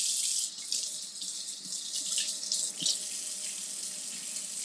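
Red and orange bell peppers rinsed under a running kitchen tap, a loud, steady rush of water with small shifts as the peppers move in the stream, no talking.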